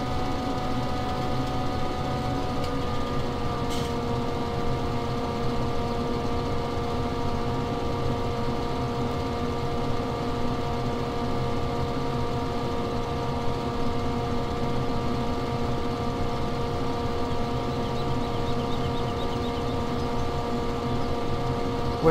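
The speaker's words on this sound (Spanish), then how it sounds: "nos subimos nuevamente a la cosechadora" Steady engine drone of a combine harvester working a field in Farming Simulator 17, a continuous, even mechanical hum with stacked tonal whine that holds without a break, no talk over it.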